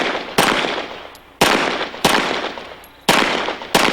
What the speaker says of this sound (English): yes, Ken Hackathorn is shooting a Beretta